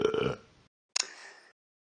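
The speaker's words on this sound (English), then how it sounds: "welcome to Talking Red and Talking Tom's burp contest." Cartoon characters in the Talking Tom & Ben video game burp in a contest: a loud, throaty burp followed by a pause, then a second shorter, higher burp.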